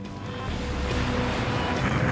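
Ocean surf churns and roars steadily around a lifeboat in a heavy swell of 10-foot waves off Brighton, with wind rushing over the microphone throughout.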